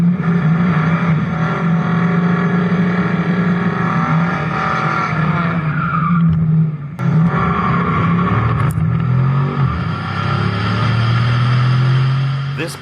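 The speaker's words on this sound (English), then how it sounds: "Spun the tires on that one" A stock Pontiac Trans Am launches hard on a drag strip with its tires spinning, the engine roaring loud and steady from inside the car as revs climb and drop through gear changes.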